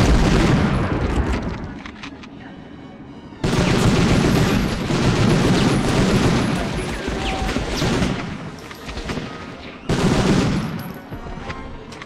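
Loud booming blasts and heavy battle noise from the PS1 game Medal of Honor, two sharp explosive surges over a continuous roar of combat.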